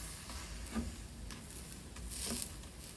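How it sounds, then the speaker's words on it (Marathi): Thalipeeth frying in a covered pan is flipped, with a steady sizzle beneath soft scraping and two brief clinks of the spatula against the pan, close and moderately quiet. "झाकण काढूया आणि हे पुन्हा पलटवूया"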